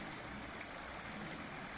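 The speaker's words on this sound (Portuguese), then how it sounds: "A correnteza aqui é bonita" A river running full with strong current in the countryside between Viçosa and Martins, a steady dense rush of flowing water, faint and unbroken, with no voices.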